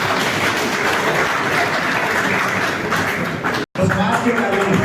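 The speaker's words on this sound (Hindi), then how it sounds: "तालियां बजाते रहिए।" Audience applause at a large Hindi-language community stage event, a dense continuous wash of clapping with a voice over it, briefly cutting out near the end before resuming.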